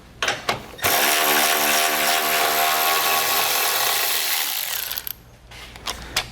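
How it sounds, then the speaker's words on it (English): A power tool drives an 8mm socket to remove a bolt on a 2019 Ford Explorer, a loud continuous whir running steadily for about four seconds after a few short bursts, then stopping. "Then we're going to take an 8mm socket. We're going to remove that bolt."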